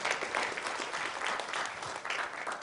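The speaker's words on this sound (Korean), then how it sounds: "큰 박수로 맞이해 주시면 감사하겠습니다" Applause from a conference audience at a Korean anniversary event welcoming a police official to the stage, a dense steady clatter of many hands filling the room throughout.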